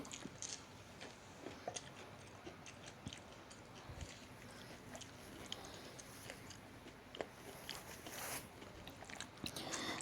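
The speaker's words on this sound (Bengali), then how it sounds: "এখন আলুর চপ আর বুট দিয়ে মুড়ি মাখিয়ে খাচ্ছে" Several people eat puffed rice mixed with potato chop and chickpeas, giving soft crunchy bites and chewing close by, faint and scattered over a quiet household background.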